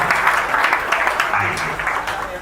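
An audience at a spiritual gathering claps together to welcome the guru, a lively steady burst of applause lasting a couple of seconds with voices faintly mixed in.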